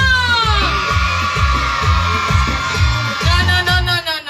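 A crowd of young voices yells together loudly over thumping rhythmic music, sustained shouting throughout.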